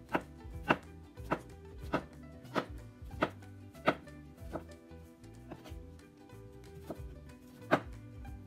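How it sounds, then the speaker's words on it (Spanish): A knife chopping zucchini into small cubes on a cutting board, steady sharp knocks about once every half second to second, close and clear with no talking. "Empezamos picando nuestra calabacita."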